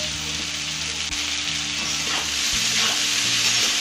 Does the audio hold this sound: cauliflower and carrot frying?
yes